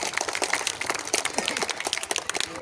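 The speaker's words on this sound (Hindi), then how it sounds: "जोरदार तालियां बजनी चाहिए।" An audience at a welcome ceremony gives a guest a burst of dense, lively clapping, with faint voices underneath.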